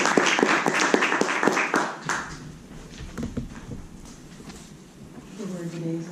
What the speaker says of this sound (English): Applaud for Ella.